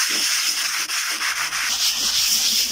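Coarse P40 sandpaper scrubs polyester putty on a sailboat hull in quick back-and-forth strokes, a close, loud, rough rasping with brief pauses between passes.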